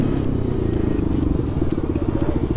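A Jawa 42 Bobber motorcycle riding in fourth gear gives off a steady, close engine rumble with a rapid exhaust pulse and wind noise, and a rider speaks over it.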